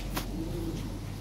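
A big-sized pair of Lahori pigeons gives a soft, low, drawn-out coo over a steady background hum, fairly faint and without any talking.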